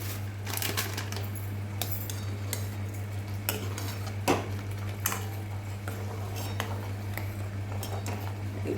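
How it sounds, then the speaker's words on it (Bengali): A spoon stirs a milk mixture thickened with milk powder in a pan for shahi tukra malai, giving steady clinks and scrapes over a constant low stove hum, with no talking. "ভালো করে মিশিয়ে দিচ্ছি মিশিয়ে নিয়ে তারপরে এটা ঘন করে ফিরে আসছি"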